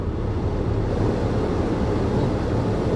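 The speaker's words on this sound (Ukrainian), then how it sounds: "Це обдув скла я включила, дуже сильний." A car's windshield defroster fan blows hard inside a cold car whose glass is fogging up, a steady, loud, broadband rushing whoosh that stays constant close to the microphone without pause.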